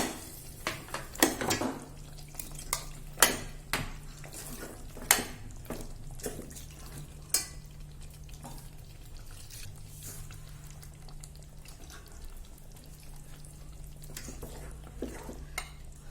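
A spoon stirs mutton into a masala curry in a pot, giving a string of irregular scraping knocks and faint sizzling, a few louder clatters early on, then quieter, sparser stirring.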